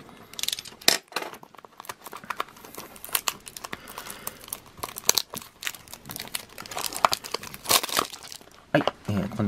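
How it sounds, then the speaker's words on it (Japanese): A Tomica die-cast toy car, a Komatsu PC200 hydraulic excavator at 1/122 scale, being unboxed: crinkling plastic, paper tearing and small rattles of the toy in its packaging, close and busy, with a voice speaking now and then. "早速開封の方していきたいと思います"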